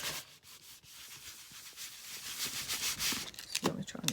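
A baren, a printmaking hand tool, rubs paper over a Gelli plate print, giving a dry, steady scuffing and brushing that grows slightly louder toward the end, close by with no talk.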